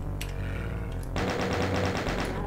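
Rapid chaingun fire from chaingunner enemies in the Doom WAD Eviternity 2, a steady stream of loud, evenly spaced shots over background game music.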